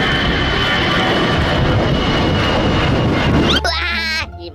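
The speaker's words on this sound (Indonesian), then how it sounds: "Wah, itu pesawat." A cartoon airplane flies overhead with a loud, steady engine drone that swells and then gives way abruptly to a bright, warbling musical effect at the end.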